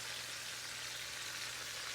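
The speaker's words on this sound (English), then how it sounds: "So we're frying up the pork chops we bought today." Steady, close sizzling and crackling of pork chops frying in a pan, an even hiss with no voices.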